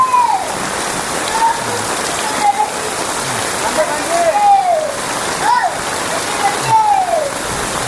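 Heavy rain drums steadily on surfaces in Lambheu, a flood-prone village, a loud continuous hiss and splatter up close while a person talks intermittently over it.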